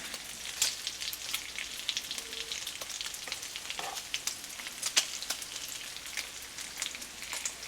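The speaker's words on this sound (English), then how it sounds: "bacon's approaching getting ready. So we'll turn them again" Strips of bacon sizzle steadily in a pan at breakfast, a dense crackling hiss with frequent sharp pops and spits scattered throughout, fairly close and continuous.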